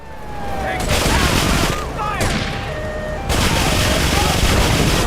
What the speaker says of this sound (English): Oh, more explosions.